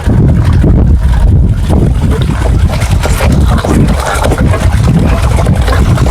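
Strong wind blowing outdoors, a loud, continuous roaring rush buffeting the microphone with low rumbling gusts throughout.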